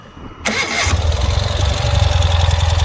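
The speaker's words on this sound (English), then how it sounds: "I'm going to fire it up for you so you can hear the bike running" A 2021 Ural Gear Up motorcycle engine cranks briefly, then catches and settles into a steady, throbbing idle, close and loud.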